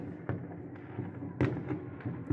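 Distant New Year fireworks in Petropavlovsk-Kamchatsky popping and thumping, several bursts in quick succession over a low background rumble.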